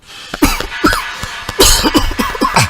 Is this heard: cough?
yes